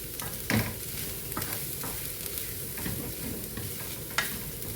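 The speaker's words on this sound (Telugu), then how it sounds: "ఇంక ఇందులోకి కొబ్బరి వేస్తున్నాను. ఇది బాగా ఫ్రై అవ్వాలండి." Grated coconut fried and stirred in a pan until brownish for Kerala alissery: a constant soft sizzle broken by a few sharp spatula scrapes and knocks. No voices are heard.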